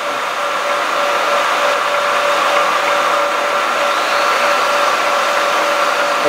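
A TUDA 19 x 80 heavy duty gap bed engine lathe runs under power feed, giving a steady, even whine and hum that holds unchanged throughout with no talk.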